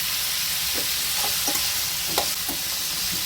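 Red chutney ingredients frying in a pan for a North Karnataka recipe, with a steady sizzling hiss and scattered scraping stirs, no voices.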